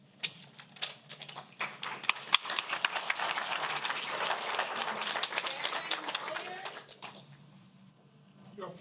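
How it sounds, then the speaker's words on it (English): Audience applause at a county council meeting, with scattered claps growing into a sustained round of clapping and then fading out, heard at a moderate distance. "Your applause take away from time from other people."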